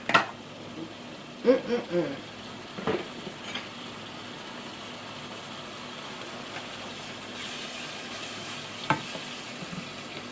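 Ground beef for sloppy joes sizzles and caramelizes in a pan, a steady frying hiss with a few sharp stirring scrapes and clatters near the start and one near the end.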